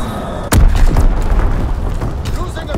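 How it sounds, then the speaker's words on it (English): A Fritz X bomb strike explodes in the Call of Duty: WWII multiplayer match, one loud close boom with a deep rumbling tail that stays under game noise and an announcer's voice. "Fritz X bomb mission on the way"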